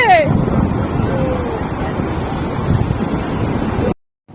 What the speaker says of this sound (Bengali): ওরে বাবা ঢেউ আসছে ঢেউ আসছে